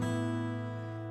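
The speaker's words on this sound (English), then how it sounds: "All those years ago, and it still looks like that and sounds like this." A 1968 Martin D-35 acoustic guitar rings out with a single full, bassy strummed chord that sustains and slowly fades, close and alone.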